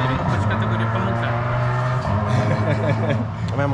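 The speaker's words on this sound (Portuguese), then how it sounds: "Como é massa o barulho do carro, né?" A car engine drones steadily at close range, its low rumble rising and falling slightly as though revving, with a continuous hum under the clip.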